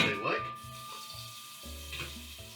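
Mushrooms stirred into a sizzling mushroom risotto in a pan, a steady fry hiss under low music-like tones with a few soft scrapes of the spoon, close and moderately quiet.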